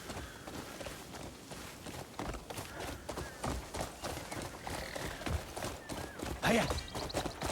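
A horse in the video game Crimson Desert clip-clops toward the listener, its hoofbeats building in a running rhythm, and a whinny breaks out near the end.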